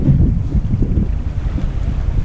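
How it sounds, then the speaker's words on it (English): Wind rushing past a hard kayak under a Rapidup sail, a steady low buffeting roar with microphone gusts, close and continuous. "now we're picking up some wind"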